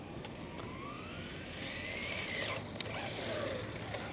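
A Traxxas 4Tec VLX 2.0 RC car drives on cold concrete with poor traction at partial throttle, giving a continuous whining motor note with rising and falling pitch sweeps and a few sharp clicks, heard fairly close.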